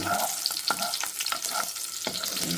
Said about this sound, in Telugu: ఇవైతే వేగుతున్నాయి అన్నమాట ఆయిల్లో మంచిగా